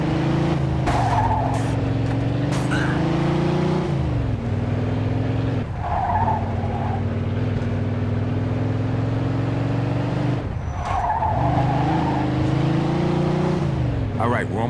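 A car in the Mafia II video game drives continuously with a steady engine drone, and tires squeal and skid in several recurring bursts over the run, with in-game voices heard underneath.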